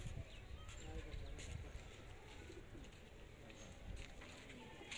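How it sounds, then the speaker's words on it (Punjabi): Pigeons coo steadily among a flock of fancy breeding pigeons kept at a village loft, their low calls repeating against a busy, noisy outdoor background. "ਤੇ ਆਸਫ ਦੇ ਕਬੂਤਰ ਜੇ"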